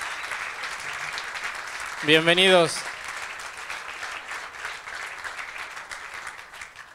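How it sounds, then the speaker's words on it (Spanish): Convention audience applause for the Colombia team at a Cinépolis Chile 2018 event, a steady, moderate patter of clapping running throughout, briefly overlaid by a single spoken word from a presenter near the middle. "Un aplauso."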